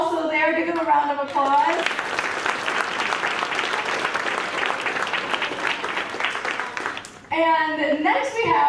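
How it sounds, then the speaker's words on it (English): At a school spring concert, a crowd claps for the band members, a sustained wave of dense applause between stretches of a voice talking at the start and end. "Give them a round of applause."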